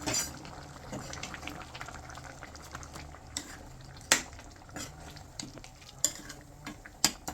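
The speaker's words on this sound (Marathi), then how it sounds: "ते चांगले घाटून घेऊया." A spoon stirs ground coconut paste through mutton masala in a pot, giving soft continuous scraping and squelching with a faint sizzle underneath and a few sharper clinks against the metal, close by and without talk.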